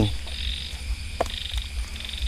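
Frogs croak steadily in the background near a wooded marsh, a repeated low throaty calling under a constant high insect-like trill, with one brief sharper chirp partway through.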